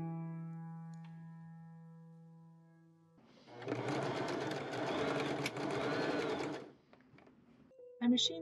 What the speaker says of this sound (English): I machine sew the collar piece.